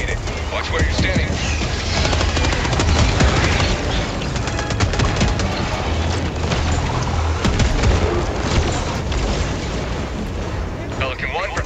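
A laser cannon fires at bugs in the video game Helldivers 2, a loud, continuous roaring rumble studded with booms and crackling blasts that persists throughout.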